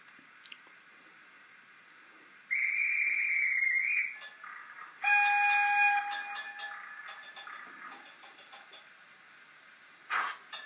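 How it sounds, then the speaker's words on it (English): Train approaching in program-generated sound effects, with sharp whistle tones and hissing steam bursts separated by quieter stretches, fairly faint overall and with no speech. "There's the train."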